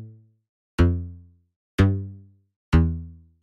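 A synth bass in Logic Pro, played without an arpeggiator, sounds three deep, plucky notes about a second apart, each with a bright attack that decays smoothly into silence, clean and alone.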